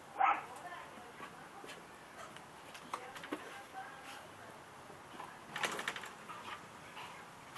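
An old female bull terrier whimpering and yipping in short, thin, high whines, close but fairly quiet, with a couple of brief louder bursts and people talking in the background.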